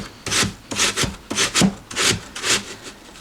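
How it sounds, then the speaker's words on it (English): An apple is rubbed around the large holes of a metal box grater, producing rhythmic rasping strokes, about six loud scrapes in quick succession, close and clear with no talking. "I'm just going to go on the larger side of the box grater. I'm going to go around and around with the apple"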